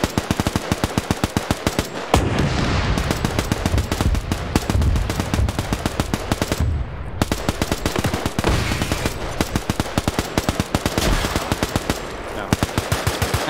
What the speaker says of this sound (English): Tanks lined up, now shooting at the infantry up here.